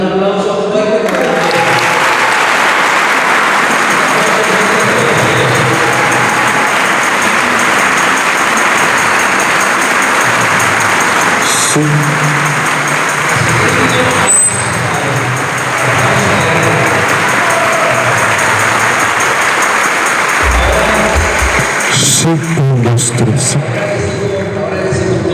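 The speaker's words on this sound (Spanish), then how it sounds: "Un aplauso fuerte para" Congregation applauding loudly during an Easter Sunday Mass, broad sustained clapping that carries on for a long stretch with a hall-like wash, a few sharp knocks and shifts near the end.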